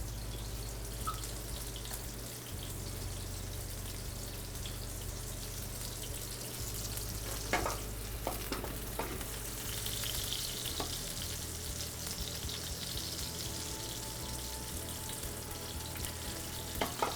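Flour-dusted monkfish fries in a pan with a steady, close sizzle and some faint popping and dripping, with a few light clinks partway through.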